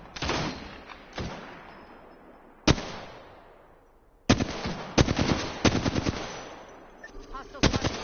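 Gunfire in the battle royale game Apex Legends: several loud bursts of rapid automatic fire, separated by short pauses, with a denser rattling volley in the second half and a faint voice underneath.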